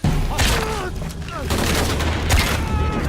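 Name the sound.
gunfire in a video game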